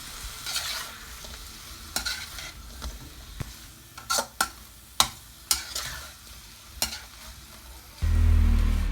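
Bean sprouts, chicken and tofu being stir-fried in a pan, with a soft steady sizzle under repeated sharp scrapes and clacks of the utensil against the pan, ending in a low thump.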